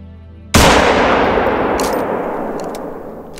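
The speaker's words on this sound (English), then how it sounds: "I'm using a Rangemaster 338, which is a very powerful gun." A single loud, close rifle shot from a Rangemaster .338 at a 50-meter shooting range in theHunter: Call of the Wild, a sharp crack followed by a long ringing decay with faint metallic pings.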